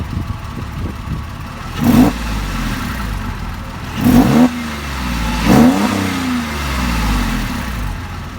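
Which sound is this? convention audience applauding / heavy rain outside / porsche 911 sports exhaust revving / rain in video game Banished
porsche 911 sports exhaust revving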